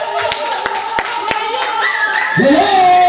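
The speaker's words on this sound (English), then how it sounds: "When I clap for you." Hands clapping a few times at a lively release party in Obala, Cameroon, sharp claps spaced roughly every half second over busy crowd noise and voices, followed by a rising shout.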